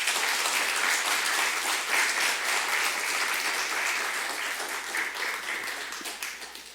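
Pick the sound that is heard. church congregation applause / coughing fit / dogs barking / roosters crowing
church congregation applause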